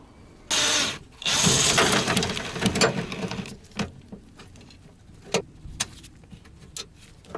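A power tool whirs loudly as it backs out 10mm bolts holding the window regulator inside the door of a Toyota Century, followed by scattered clicks, clunks and handling noises.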